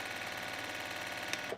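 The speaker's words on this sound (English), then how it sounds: "I'm coming over to my sewing machine." A sewing machine stitching scrap fabric about a quarter inch from a trimmed edge, giving a fast, even mechanical rattle that runs steadily and softly, then stops with a small clack near the end.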